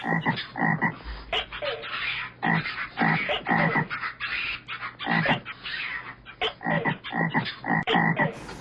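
Frogs croak at night in dense, rhythmic bursts, loud and close, with many calls overlapping continuously and no talking, in Halong Bay, Vietnam.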